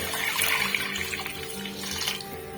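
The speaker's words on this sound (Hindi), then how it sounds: "इसमें मैं तकरीबन 1 लीटर पानी ऐड करूंगी।" About a liter of water is poured into a pot of lentils, making a continuous splashing gush that stays fairly steady and close for a couple of seconds.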